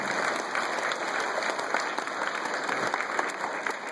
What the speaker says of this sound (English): let's give a nice round of applause for our parents and our families